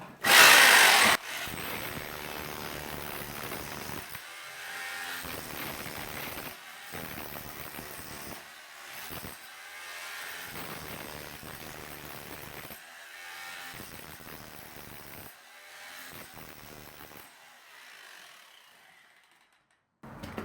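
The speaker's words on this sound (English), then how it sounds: "using the SDS drill with the chisel bit" An SDS drill with a chisel bit chips plaster off a brick wall in long, harsh rattling bursts separated by short pauses, close and continuous over about twenty seconds.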